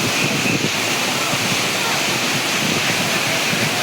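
Hogenakkal Falls waterfall, a steady dense roar of rushing water heard close and loud throughout, continuous with no breaks.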